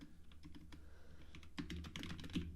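Rapid, close keystrokes on a computer keyboard tap out a short burst, light and sparse at first, then a denser cluster of clicks near the end, with no talking.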